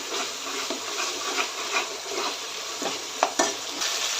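Ginger garlic paste sizzles and fries in a hot pan while a spoon stirs and scrapes, with a few light clinks against the metal.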